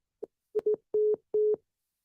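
A telephone line tone sounds after a call-in line disconnects: a few short beeps, then two longer steady tones separated by brief gaps. The tones are clear and stand alone with no voices.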